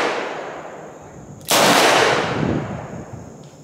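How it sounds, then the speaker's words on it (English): A single sharp, loud .357 Magnum shot from a Smith & Wesson 586 L-Comp revolver cracks close by, its echo decaying over the following second or two, with no talk. "One shot."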